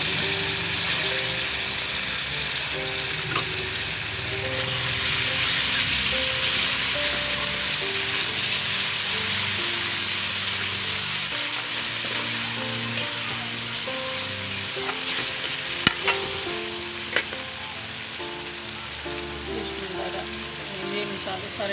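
Chopped tomatoes fry for Lahori-style white chickpea curry, a loud, steady sizzle lasting throughout with faint rattles and a couple of sharp clanks near the end, no speech.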